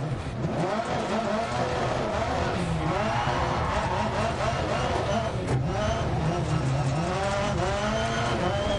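Rally cars race in the video game DiRT Rally 2.0 rallycross, engines revving and climbing through gears with tire squeals and skids, loud and continuous, with a voice briefly exclaiming underneath.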